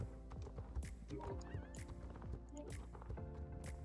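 A horse in the video game Star Stable whinnies over steady clip-clop hoofbeats, the neigh rising clearly mid-way while rhythmic hooves continue close and moderately loud.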